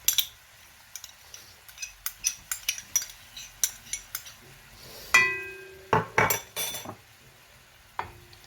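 A spoon scraping and clinking against a pan as ketchup is stirred into homemade Schezwan sauce paste, a series of sharp, close metallic taps and scrapes spaced through the clip, with a brief ringing tone midway.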